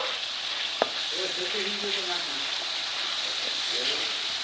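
Soft, steady sizzling of ginger-garlic paste frying over low heat in a pan for Kashmiri dum aloo, with faint stirring and a brief knock near the start.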